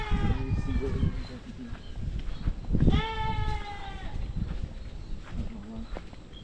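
Goats bleating on a farm early in the morning, several wavering calls rising clearly around the middle of the clip over a busy background, with someone talking close by throughout.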